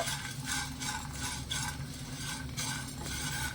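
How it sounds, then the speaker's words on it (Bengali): Curry leaves crackle and sizzle in hot oil in a pan, with rhythmic stirring strokes and light utensil clinks recurring every half second or so, close and fairly quiet. "এই পাতাগুলো দিয়ে একটু নেড়ে ছেড়ে ভালো করে একটু ভেজে নেব"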